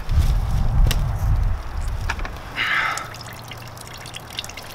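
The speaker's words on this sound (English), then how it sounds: "downward pressure as well as that twist is gonna help" Water drips and trickles from a whitetail deer hide as it is wrung and twisted by hand during brain tanning, a close wet splatter at first that thins to sparse drips, with a brief hiss midway.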